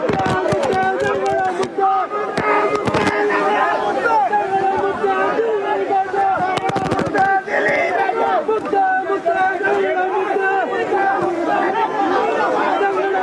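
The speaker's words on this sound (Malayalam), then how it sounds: "വലിയ ജനക്കൂട്ടം ദിലീപിന്റെ വീടിന് മുമ്പിലുണ്ട്. മുദ്രാവാക്യങ്ങളോടെ ആണ് ദിലീപിനെ സ്വീകരിക്കുന്നത്." A large crowd outside actor Dileep's house in Aluva chants slogans in rhythmic unison, loud and continuous, with voices overlapping throughout.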